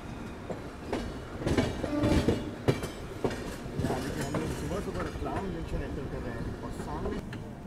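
The Delhi–Mumbai Duronto Express runs on rails with a steady rumble and clickety-clack of wheels over joints, heard from inside the train at moderate volume.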